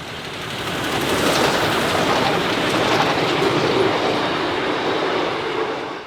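K class steam locomotive train passing through a trench at Springvale Station, a loud rumbling roar that swells, holds steady with rattling wheels and fades slightly at the end.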